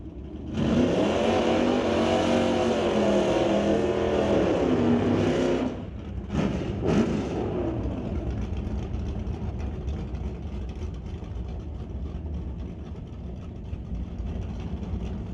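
A 1970s Chevelle drag race car accelerating hard, its loud engine note climbing steadily for several seconds, then a quick gear-change break before a fainter, receding roar continues down the track.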